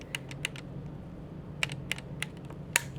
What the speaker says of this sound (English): Okay, there's the trigger pull.